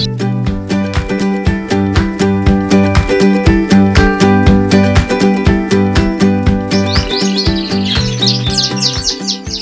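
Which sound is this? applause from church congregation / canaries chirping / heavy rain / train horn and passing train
canaries chirping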